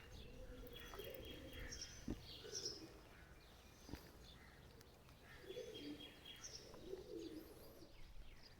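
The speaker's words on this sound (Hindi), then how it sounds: "बड़ी तादाद में कबूतरों ने अपना डेरा डाला हुआ है" Pigeons coo softly and repeatedly inside a stone well in Karachi, echoing, with a few faint chirps mixed in over a low background hum.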